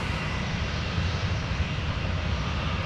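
A jet airliner on the runway at DFW gives off a steady, moderately loud engine rumble that holds evenly for a few seconds, alone without talk.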